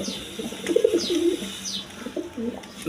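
Pigeons coo on a pigeon farm, close soft rolling calls repeating in short phrases over a faint background hiss.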